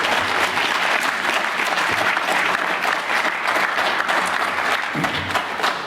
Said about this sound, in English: So students, please give your parents a round of applause.